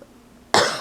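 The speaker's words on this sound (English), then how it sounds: "Excuse me for the cough." A single sharp, loud cough bursts out after a stretch of near silence, then trails off quickly.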